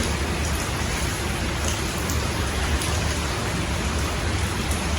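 Heavy rain pours steadily on a house in Jaffna, a dense, continuous hiss of drops hitting surfaces with no pauses and no voices.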